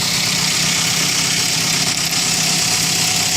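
A Perodua Kenari 1.3 engine idles steadily and loudly up close, a constant droning rumble with a faint mechanical whine, no voices.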